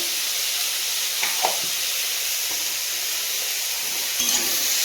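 Vegetables with turmeric are stir-fried in a pan, giving a loud, close, steady sizzle and hiss throughout, with a few faint scrapes of stirring.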